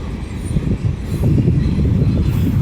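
CSX freight train Q009 rolls through Railroad Park in Birmingham, Alabama, a steady loud low rumble that swells slightly and holds without a break.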